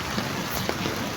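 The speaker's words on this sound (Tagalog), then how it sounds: "Malakas ang ulan." Heavy rain pours as a steady, dense hiss of falling water, close and unbroken through the short moment.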